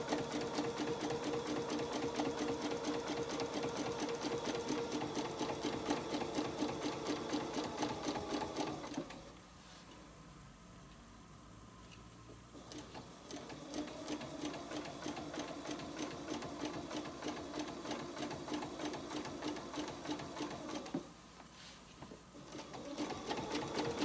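A sewing machine stitches lines for a spider web quilting project, its foot running along a template: a fast, steady mechanical whirr in two long runs broken by short pauses, close and alone.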